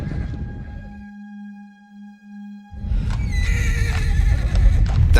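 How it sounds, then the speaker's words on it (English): Horses charging on a battle film set: a loud whinnying neigh opens, then a thin steady tone holds before a burst of pounding hooves and further neighs rises and stays loud, with no talking. "When the horses are charging towards him, that was to be the final frame."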